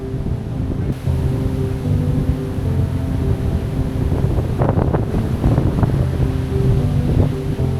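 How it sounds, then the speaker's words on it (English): Strong wind buffets the microphone on an open Lake District fell near Mell Break, a loud steady roar with gusty surges throughout and no voices. "So, talking over the wind"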